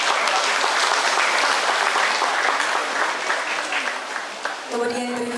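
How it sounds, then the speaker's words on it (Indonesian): A church congregation at a Christmas gathering in Wonogiri breaks into sustained, loud applause. Clapping fills the room and fades near the end as a voice and some music come in. "Kita berikan tepuk tangan Bapak Ibu jemaat."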